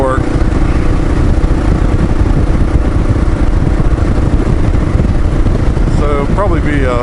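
Kawasaki KLR 650 motorcycle on a commute ride, a loud, steady engine drone with road and wind rumble close to the mic throughout, holding an even pace with no pauses.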